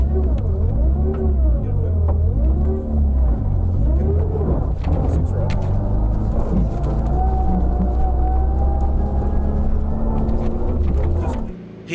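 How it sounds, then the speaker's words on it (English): A Repco Ford Fiesta rally car on a stage rally corner fires up and pulls away, its engine note climbing loud and close as it accelerates, with voices in the background. "Start the car."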